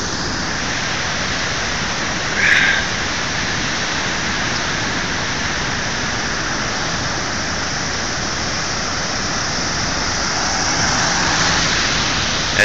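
A flooded river near Elverum rushes after heavy rain, a loud, dense, unbroken roar of water that holds steady from start to finish with no other sounds standing out.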